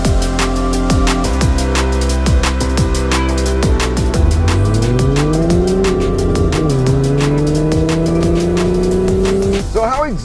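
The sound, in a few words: Volkswagen Beetle RSI car driving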